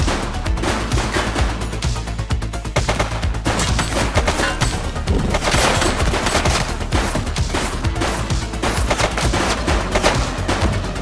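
Gunfire in the police video game The Precinct, dense rapid automatic bursts crackling continuously and loudly throughout with no pauses.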